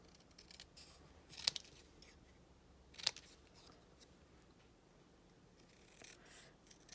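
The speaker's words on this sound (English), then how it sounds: "and I just do one of those at the bottom and trim that out as well." Scissors fussy-cut a stamped paper image for a handmade card, with a few crisp snips spaced seconds apart over a quiet, close background and no talking.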